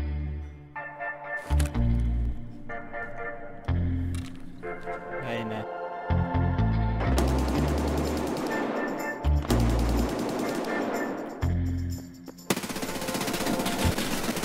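Automatic rifle fire from Escape From Tarkov, loud and close, with short bursts early and long sustained strings of rapid shots later.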